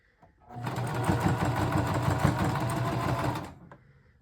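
A school sewing machine stitches steadily toward the corner of a seam, a loud continuous whirring motor run of about three seconds that starts and stops abruptly, with no talking over it.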